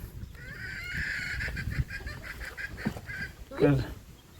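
Chickens cluck and call in a series of short, repeated bursts at a farm setting, moderately close, with a louder squawk near the end over faint background noise.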